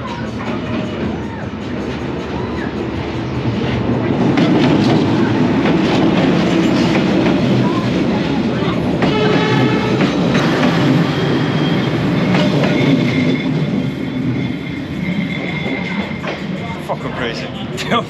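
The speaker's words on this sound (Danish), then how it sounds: "Se, nu kommer toget." A train rumbles past close by through a pedestrian street, with rhythmic clacking wheels and some metallic squeals, while people talk in Danish over the steady, loud noise.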